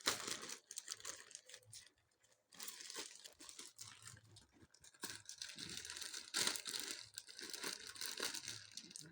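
Parcel packaging being torn and crinkled open by hand, with repeated rustling, crumpling bursts and scratchy tearing that continue through most of the stretch, close and fairly loud with a brief pause early on.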